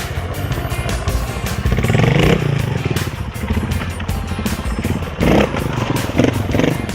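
Trial motorcycle ridden by Takehisa Fujinami, its engine idling and blipping in a steady loud putter with small throttle surges and clatters as the rider makes small sideways balancing movements on one or two wheels; a voice talks faintly underneath.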